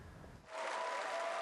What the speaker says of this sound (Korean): 박수와 환호 속에서 청와대 직원조회에 처음 참석한 박근혜 대통령.